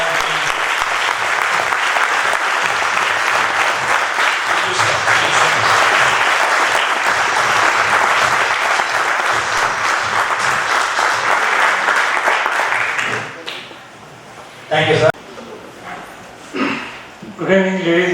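A large standing audience at a war heroes event gives sustained, loud applause for a naval commodore and his team, dense clapping lasting about thirteen seconds before breaking off into scattered claps and a voice.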